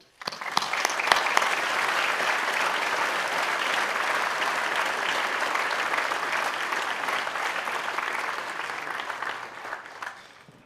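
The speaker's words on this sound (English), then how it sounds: "let's give them a hand" Sustained applause from a college commencement audience honoring graduates, a steady, full-room clapping that rises quickly, holds evenly for about ten seconds and then tapers off near the end.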